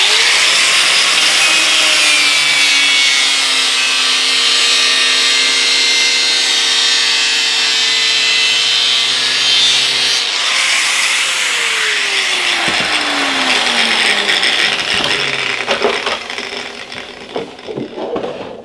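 Sheet metal is cut to size, likely with an angle grinder fitted with a fine disc, producing a loud, continuous high whine with shifting pitch, then ragged scraping and clattering as the cut ends.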